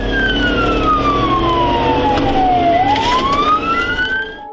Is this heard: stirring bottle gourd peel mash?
no